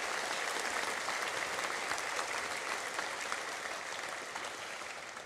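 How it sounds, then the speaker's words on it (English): An audience at an electric cooperative's annual meeting claps steadily for several seconds, a dense wash of hands that fades only slightly toward the end. "If you would give them all a round of applause,"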